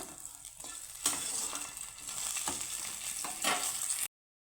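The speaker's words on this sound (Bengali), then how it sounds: "তো মাছগুলো আমার ভাজা হয়ে গেছে প্রায় আমি ভাজা হয়ে গেছে তুলে নিচ্ছি এখনও কত ফুটছে দেখছো তো" Tangra fish frying in hot oil in a pan, a steady close bubbling sizzle with a few scraping clatters of a utensil as pieces are lifted out, no voices.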